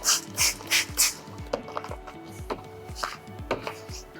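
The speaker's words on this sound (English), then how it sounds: "so I'll spray it again" A handheld spray bottle squirts water under clear PPF film on a Ford Mustang Mach-E hood. It gives about eight quick, evenly paced trigger pumps: the first four are crisp and hissy, and the later ones are softer mechanical clicks.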